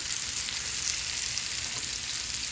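Store-bought sliced mushrooms sizzle steadily in a hot pan as the first stage of a veal Marsala, a continuous close hiss with faint stirring and no voices.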